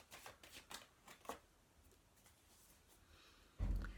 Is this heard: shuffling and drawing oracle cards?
yes